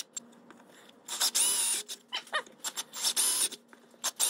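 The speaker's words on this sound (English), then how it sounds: "Then I'm moving on to drilling the holes for the binding posts coming out of the mid cabinet." A power drill whirs in several short bursts, spinning up and biting into a wooden speaker cabinet as it drills holes, with brief pauses and faint clicks between runs.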